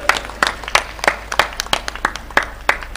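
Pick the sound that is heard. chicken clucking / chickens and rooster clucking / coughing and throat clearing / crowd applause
crowd applause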